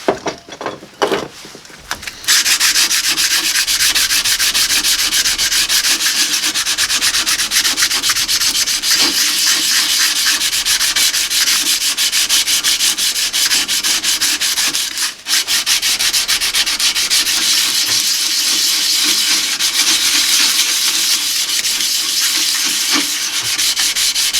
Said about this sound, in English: after I get that side like I wanted on with that 80 grit, I'll just flip it over and do the other side